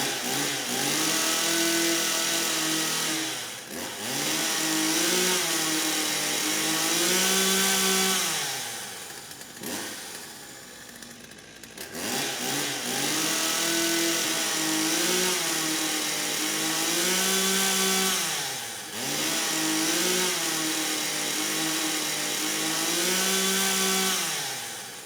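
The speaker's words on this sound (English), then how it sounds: "is that an electric chainsaw?" An electric chainsaw runs in a movie scene, buzzing steadily in long passes that rise and fall in pitch, with a brief lull near the middle before the motor whines back up.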